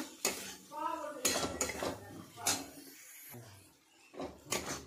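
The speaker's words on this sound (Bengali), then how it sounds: "এবার এই মশলার মধ্যে দিয়ে দেবো ভেজে রাখা আলুগুলো।" Fried potatoes are tipped into a pan of spice masala for a saag dish, giving several clattering scrapes and knocks of a spoon against the metal pan, close and moderately loud.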